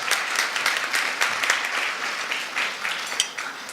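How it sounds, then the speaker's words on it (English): Steady applause from the crowd at a Supreme Court luncheon honouring scholarship recipients, many hands clapping at a moderate level throughout. "Now you may applaud."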